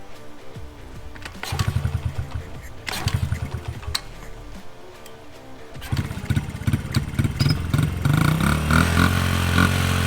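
A Honda CRF50 dirt bike on a cheap replacement carburetor starts cold on a hot day. Kick attempts give short bursts of engine, then it catches and settles into a close, loud, steady running idle with a clattery buzz.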